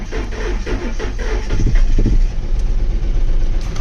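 A freshly installed Ford 5.4 3V V8 in a Super Duty truck runs loud and close, idling rough at first, then picking up a little before settling back toward a steadier idle.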